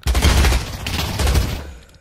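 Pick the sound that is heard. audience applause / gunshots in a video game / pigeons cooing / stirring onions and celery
gunshots in a video game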